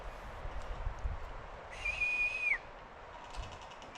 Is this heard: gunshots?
no